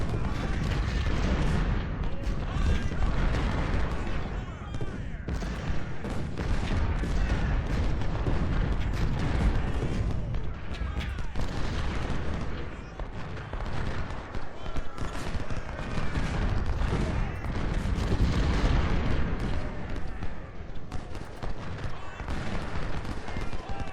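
Cannon and artillery fire rolls on without pause in Ultimate General: Civil War, dense cracks and booms overlapping with crackling volleys throughout, with a voice talking over the battle.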